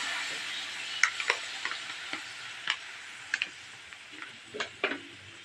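Squid adobo cooking in a pan after chili and vinegar go in, a low simmering sizzle broken by sharp utensil taps and scrapes at an irregular rhythm, close and without speech.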